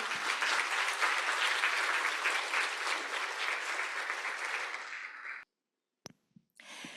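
Audience at a green finance seminar gives a sustained round of applause, dense and steady for about five seconds before cutting off abruptly, followed by near silence with a couple of faint clicks and a soft breath.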